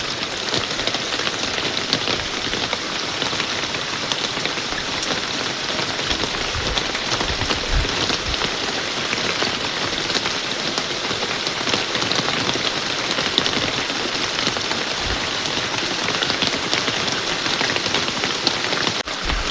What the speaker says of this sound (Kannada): ಮಳೆ ಬೀಳ್ತೈತೆ, ಒಳ್ಳೆ ವೆದರು